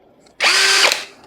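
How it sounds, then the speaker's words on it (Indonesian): A cordless 13 mm BCID 813 impact drill switches on after a short pause and runs steadily for about half a second at a loud, high whine, then spins down, with no talking. "ini adalah impact drill cordless BCID"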